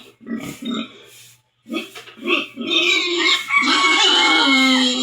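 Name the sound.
pigs oinking, asking for food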